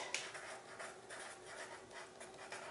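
Pen scratching out words across a drawing, a quiet, steady scraping of strokes, faint and continuous with small bursts as letters are formed.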